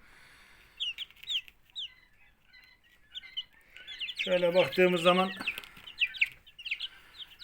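One-week-old chicks chirp in high, short peeps scattered throughout, with a brief stretch of someone talking midway while the peeping continues around him.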